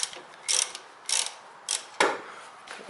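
A ratchet with a 12mm socket tightens an alternator bolt on a Toyota Corolla during timing belt work, with four or five short, crisp clicking strokes close up and brief pauses between them.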